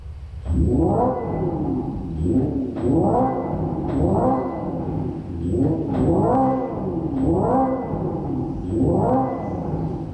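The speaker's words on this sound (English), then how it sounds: "this sound isn't just inside the car, it's on the outside of the car where it sounds like an engine revving, even though this is an electric car" A 2025 Hyundai Ioniq 5 N electric hot hatch plays a synthetic engine sound through exterior speakers, rising and falling in four or five loud, repeated rev sweeps with a rough growling tone.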